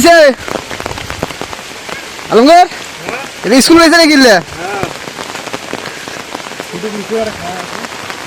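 Sudden heavy rain pours down steadily as a constant hiss, while a person talks loudly and intermittently close by over the downpour.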